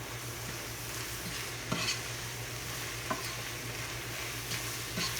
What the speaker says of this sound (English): we'll mix that into the ground beef and onions